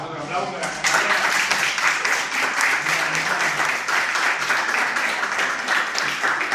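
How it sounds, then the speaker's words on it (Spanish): A classroom audience applauding student presenters after a group presentation, clapping swelling up after a brief moment of talk and continuing as a steady, lively patter of many hands. "les damos otro aplauso a las compañeras"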